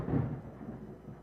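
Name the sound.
thunder rumbling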